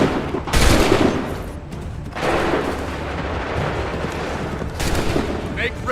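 Musket volleys ring out in Assassin's Creed 3 after the order to open fire, with loud crackling fusillade bursts at the start, middle and end, and a rumbling battle din sustained between them.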